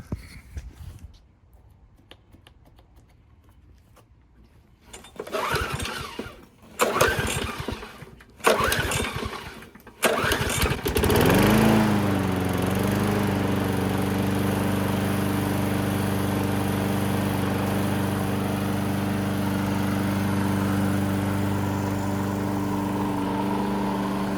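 A Troy-Bilt lawn mower with a replacement carburetor and new spark plug is pulled over a few times, then catches and settles into a steady, loud, close engine run.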